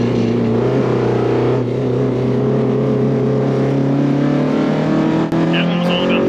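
A 1989 DTM championship-winning BMW M3 E30 race car engine holds a loud, steady high-revving drone against the rev limiter, sustained close up for several seconds.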